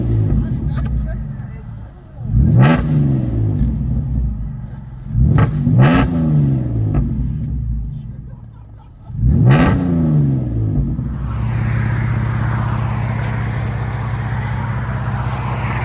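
A 2006 Cadillac CTS with a 3.6L V6 and true dual Magnaflow Magnapack exhaust idles loudly nearby, then snaps through three sharp revs that rise and fall, and settles into a steady idle as people talk faintly in the background.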